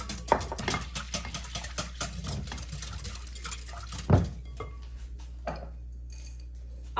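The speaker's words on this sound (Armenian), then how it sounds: "ավելացնում 10 գրամ դրոշ, լավ խառնում" A spoon stirs yeast into water in a bowl while making bun dough, giving soft repeated scraping and light taps, with one sharper knock partway through and quieter moments toward the end.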